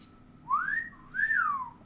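A pet bird whistles two clear, sliding notes, each rising then falling, close by and alone against a quiet room.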